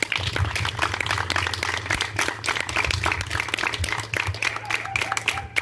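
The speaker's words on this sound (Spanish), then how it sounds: "vamos a darle un fuerte aplauso a la Santa Narcisa" Sustained crowd applause at a parish community feast day honoring Santa Narcisa, dense clapping with a low background hum and some voices mixed in.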